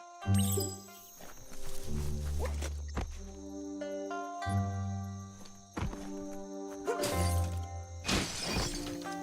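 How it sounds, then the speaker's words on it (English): A box is smashed apart in the video game Biomutant, with several sharp shattering and cracking impacts breaking out over game music, plus thuds and clattering debris spread across the passage. "You shouldn't worry about smashing up the box."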